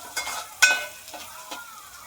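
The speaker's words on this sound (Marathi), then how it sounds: "कांदा आपला तेलामध्ये चांगला फ्राय झालेला आहे" Onion frying in oil in a pan as turmeric is added, with soft stirring scrapes and a few short clinks over a faint, steady sizzle, close and fairly quiet.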